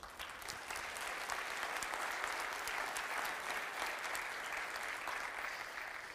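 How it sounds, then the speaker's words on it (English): An audience claps for a man in a sustained, even burst of applause, dense and steady throughout with no voices above it. "Let's clap it up for him."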